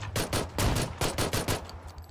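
Rapid bursts of gunfire in PlayerUnknown's Battlegrounds, including shotgun blasts, fire in a quick uneven volley of about ten loud close shots over two seconds, then trail off into fainter reports.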